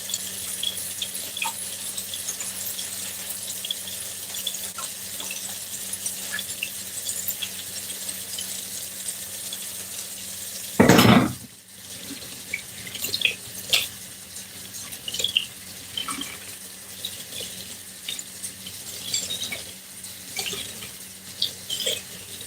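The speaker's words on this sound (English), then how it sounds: "Now rinsing the soap off" Kitchen tap water running into a sink while soap is rinsed off a kitchen knife, a steady low wash with small clinks and drips and one louder splash burst midway, close by.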